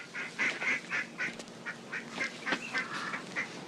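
Ducks quack in a rapid series of nasal calls, about a dozen bursts in quick rhythm, moderately close against quiet background.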